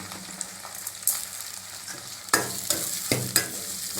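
Chopped tomatoes with salt frying and being stirred in a pan for Tamil ennai kathirikkai kulambu: a soft continuous sizzle broken by several sharp scraping stir strokes, close and alone.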